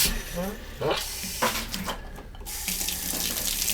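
Water runs steadily from a newly installed APPASO brushed nickel kitchen faucet, splashing into a sink with shifting flow, fairly close and continuous throughout.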